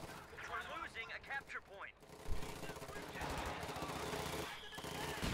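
Explosions and rattling gunfire from a Company of Heroes 2 battle, a dense, continuous barrage with a sharp blast partway through, steady and fairly loud with no voices over it.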